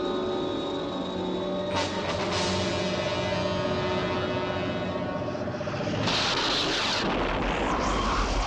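Explosion of a destroyed target as a TV sound effect, a sustained loud rumbling blast with bursts of crackle and a sharper surge toward the end, no speech.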